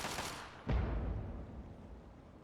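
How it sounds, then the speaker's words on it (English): Grenade blast amid gunfire in the Fallout 3 video game: one heavy, booming explosion lands partway through, then a low rumble slowly decays beneath faint background noise. "He just threw a grenade."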